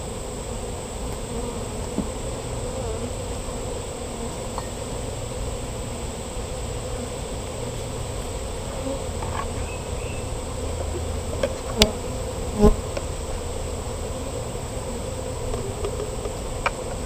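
Honey bees buzz in a dense, steady drone around a hive frame being shaken for an alcohol mite wash, continuous and close, with a few brief louder passes and no talk.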